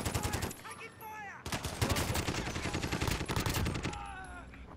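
Rapid bursts of automatic gunfire from the video game Warzone crackle densely and continuously, loud and close, with brief whizzing effects between volleys.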